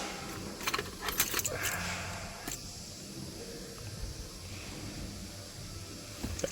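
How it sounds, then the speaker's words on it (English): Car keys jangling in the ignition of an electric vehicle after a battery replacement, several quick metallic rattles near the start over a quiet background hiss, then mostly stillness with a faint clink at the end. "Turn ignition switch back off again."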